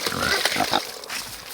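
Pigs on a small farm grunting and oinking up close in a short burst of rough, overlapping snorts.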